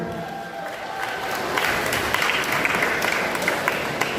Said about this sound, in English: we applaud her this afternoon.